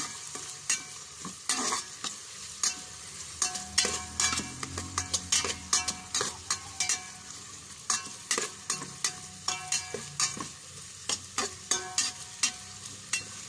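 Softened pork ribs stirred and frying in a pan with tomatoes, a steady sizzle under repeated scraping and stirring strokes, close and fairly loud, no voices.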